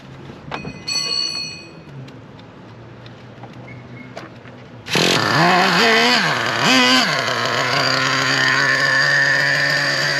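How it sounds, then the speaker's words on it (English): Traxxas T-Maxx RC nitro truck engine with a low idle, quiet at first with faint clicks, then abruptly bursting into a loud, buzzy, high-pitched small-engine drone that wavers in pitch and runs steadily to the end. "This one seems to have a low idle."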